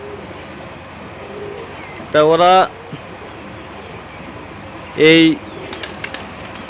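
Pigeons perched on a house roof give two distinct throaty coos a few seconds apart, standing out over a steady background hum while a person speaks quietly.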